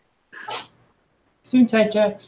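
A single sharp sneeze bursts out near the start, followed after a short pause by a voice talking.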